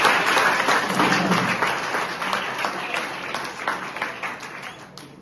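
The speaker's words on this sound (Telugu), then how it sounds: "కానీ గట్టిగా క్లాప్స్ కొట్టండి" Students in a tenth-grade classroom clap loudly, a dense and sustained burst of many hands that stays close and strong throughout, then tapers slightly toward the end.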